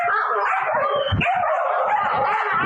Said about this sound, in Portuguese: um vídeo mostrou 6 cães atacando outro cachorro por fome